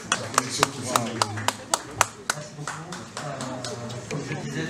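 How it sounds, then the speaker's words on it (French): Scattered clapping at a press conference, around a dozen distinct, evenly spaced claps from a few hands rather than a full crowd, heard over someone talking throughout. "Applaudissez quand même pour la collection Koffi Olomide."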